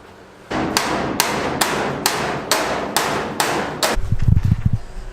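A hammer strikes the body metal of an early Ford Bronco in a quick, steady series of sharp, ringing blows, about eight hits, followed by a rougher low clatter.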